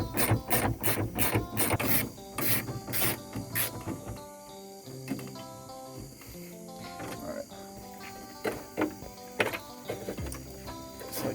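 A hand ratchet clicks in quick bursts while tightening bolts on the grill bracket of a Ford F150 EcoBoost, close and crisp, with pauses between runs of rapid pawl clicks.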